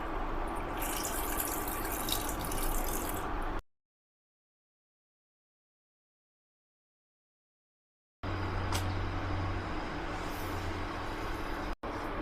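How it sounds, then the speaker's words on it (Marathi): Water running from a tap, poured into a pan on a kitchen stove, a steady close splashing rush that cuts out for a few seconds of silence and then resumes. "हे तापते तोपर्यंत इकडे पाणी टाकून घेते"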